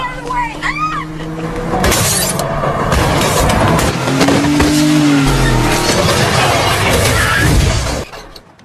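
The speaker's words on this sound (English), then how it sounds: "the man stepped on the gas of his car and was about to hit them" A car accelerates hard toward people in a dramatic movie scene, engine surging loudly with tire squeal and crashing impacts over several seconds, mixed with voices and music before cutting off abruptly.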